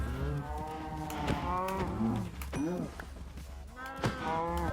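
A Minecraft cow moos in a low, drawn-out series of bellows, fairly loud and close, with faint game background beneath.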